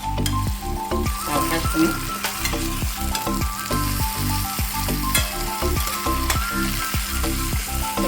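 Potato and banana slices fry in a pan while being turned and stirred, a steady loud sizzle with repeated scraping and clinking of a spatula against the pan, and a brief spoken word.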